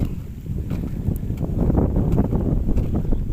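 Cool night wind blowing across open rice fields during dry-season paddy irrigation, a steady broadband rush with gusty buffeting on the microphone, no voices.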